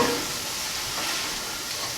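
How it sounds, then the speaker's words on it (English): Burst tomatoes sizzle in a hot pan for a linguine sauce, a steady close hiss of frying with gentle stirring underneath and no talking. "Give them a little stir. A little gentle stir."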